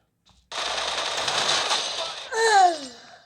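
Loud rapid automatic gunfire in PUBG, a dense burst lasting about two seconds followed by a brief ringing tail, heard close up.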